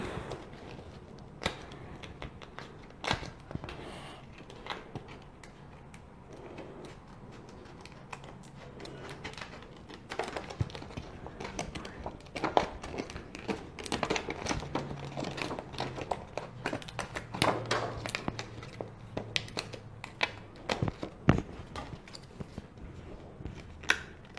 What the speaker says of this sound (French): Il va falloir que je coupe ça avec ma petite paire de ciseaux